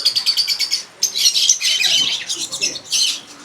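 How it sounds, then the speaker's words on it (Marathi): Lovebirds in cages at a pet market in Mumbai give rapid, shrill chirps and squawks, loud and close, in dense overlapping bursts with no talk. "ते बघा लवबर्ड बघा कसले लाईनमध्ये,"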